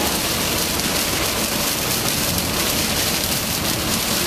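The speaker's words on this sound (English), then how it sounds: "when you're actually here in the car with this rain pouring, it does look unpleasant" Heavy rain pours onto a car during a thunderstorm, a dense, constant hiss and patter of drops on the roof and glass heard from inside, steady and loud throughout.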